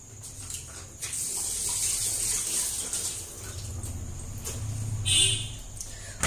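Running tap water washes a bottle gourd in a home kitchen sink: a steady, close hiss of flowing water with a brief louder splash near the end.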